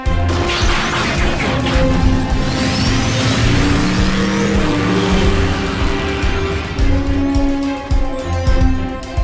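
Transformers robot cars revving their engines and driving off, loud mechanical whirring with tonal engine hums, clanks and a sweeping acceleration that carries steadily throughout.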